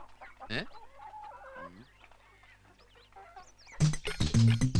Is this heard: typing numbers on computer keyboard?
no